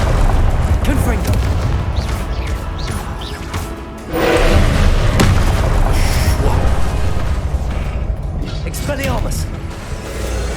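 Confringo blasting spells burst in Hogwarts Legacy as a string of booming, crashing explosions with whooshes, heavy and loud under a player's spoken voice.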